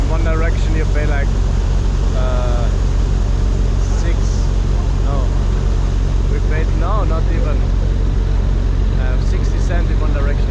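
A river boat engine drones steadily at sunset in Ho Chi Minh City beneath people chatting and background voices, a constant low rumble with water and wind noise mixed in.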